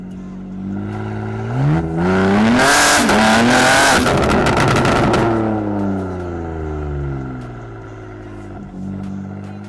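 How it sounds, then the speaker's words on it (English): A 700 HP BMW G80 M3 Competition with straight-pipe exhaust, mid pipes and downpipes revs hard, its engine climbing to a loud raspy peak and then falling back to a rumbling idle, with another short blip near the end. "This thing is a straight pipe, got mid pipes, got down pipes, all the way through, and you're about to hear that."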